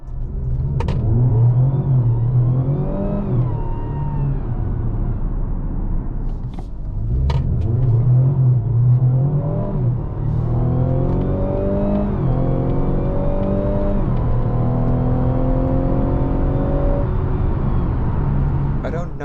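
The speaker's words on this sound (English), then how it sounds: "You can really tell that the engine and the electric motor are both working at full power" Mazda CX-60 hybrid, engine and electric motor both at full power under hard acceleration, a loud rising engine note climbing through gears with smooth whirring rises, a brief dip at a shift, then sustained pull, heard from inside the car.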